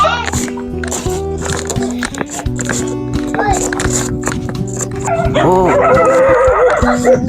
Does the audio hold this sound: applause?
no